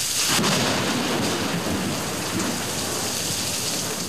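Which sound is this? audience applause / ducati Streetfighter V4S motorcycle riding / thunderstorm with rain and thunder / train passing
thunderstorm with rain and thunder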